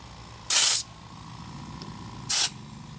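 Two short, loud bursts of compressed air hiss from an air compressor filling a truck tire, each lasting about a third of a second, spaced roughly two seconds apart over a low steady background hum.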